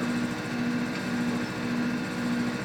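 A distributor spins on a Sun distributor test machine with a steady, even whine and a hum of light motor noise, fairly quiet and constant throughout.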